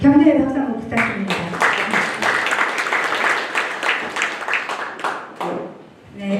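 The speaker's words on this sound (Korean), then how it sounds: "격려의 박수 한번 부탁드립니다." Workshop attendees at a regional small-business gathering clap in a burst of separate, distinct hand claps that rise and then trail off toward the end, following a brief spoken line at the start.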